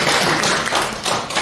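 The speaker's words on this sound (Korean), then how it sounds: "김춘배 집사님 화이팅하라고 박수 한번." A church congregation claps for a deacon during a sermon, a short burst of dense, close applause that fills the whole moment with no talk over it.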